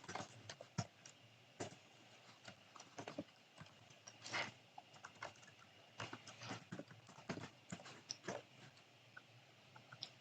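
Keys clatter in short irregular bursts as a GPO name is typed on a computer keyboard, close and fairly quiet, with no one talking.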